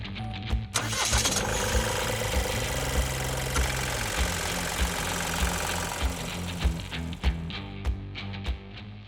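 The 1.5-litre three-cylinder turbodiesel engine of a 2020 Opel Astra cranks and starts, then runs nearby with a rough, knocking rumble and a few uneven revs.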